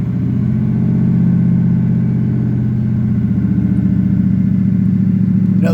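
A 2007 Mercury Grand Marquis with an aftermarket exhaust idles steadily after starting, its loud, close, low engine rumble holding even and constant throughout with no talking.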